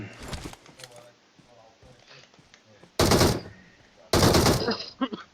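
Automatic gunfire in the mobile battle-royale game PUBG Mobile, two loud sustained bursts of rapid shots cutting in after quieter game ambience with low player voices.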